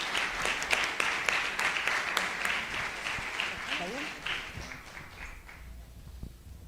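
Audience applause welcomes speakers at a talk on artificial intelligence and communication at a real estate college, a steady patter of many hands that fades out after about five seconds, with some voices mixed in.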